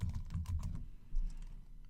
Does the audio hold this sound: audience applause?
no